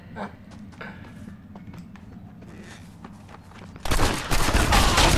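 Shotgun blasts ring out in a Red Dead Redemption shootout, arriving as a loud, dense burst of gunfire after a few seconds of quieter footsteps and movement.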